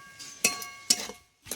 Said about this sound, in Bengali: এবার আমি ধনেপাতা যে ভেজে রেখেছি সেটা দিয়ে দেব, দিয়ে এর সঙ্গে ভালো করে মিশিয়ে নেব।